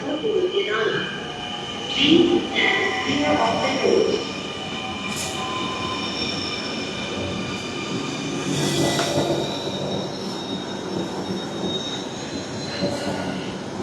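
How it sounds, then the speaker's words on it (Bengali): A Dhaka metro rail train bound for Motijheel hums and rumbles alongside a platform, with tonal whines and brief squeals, a few voices and station bustle around it. "এই প্ল্যাটফর্মটিতে মতিঝিলের দিকে আরেকটি মেট্রো রেল এসেছে যাওয়ার"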